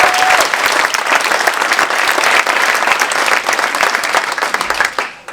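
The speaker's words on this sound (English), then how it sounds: "So one more round of applause for Dr. Hoke and the students." Dense, loud stadium crowd applause for a marching band, steady and continuous for about five seconds before tapering off at the end.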